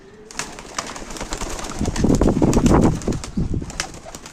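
A pair of Nepali pigeons in a home loft are handled and put into a cage, with soft coos, wing flaps and rustling bursts that grow busier midway, close by and without talk.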